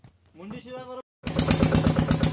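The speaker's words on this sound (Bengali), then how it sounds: "বোট ছেড়ে দেওয়া হয়েছে আর চলতেছে" A small fishing boat's engine on a river char in Bangladesh starts up and runs as the boat sets off: a loud, steady, pulsing motor drone after a brief silence, with a voice talking just before it.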